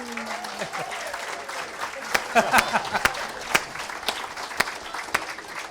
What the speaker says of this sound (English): the clapping's getting a bit slower now